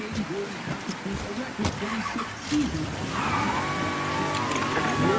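A car engine idles and then rises in pitch in the Mafia 3 video game on Xbox. Steady engine hum runs under a voice and other game sounds.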